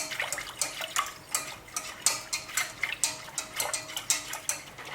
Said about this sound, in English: Once it's on the stove, you start stirring vigorously.